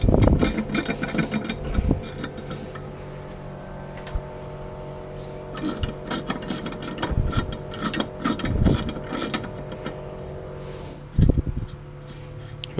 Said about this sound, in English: I don't know how mechanics ever used to work without ratchet ring spanners, impact rattle guns